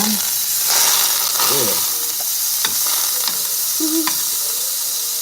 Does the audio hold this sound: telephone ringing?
no